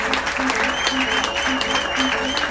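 A church congregation claps steadily during a festive service, a dense, continuous wash of applause with a faint musical tone underneath.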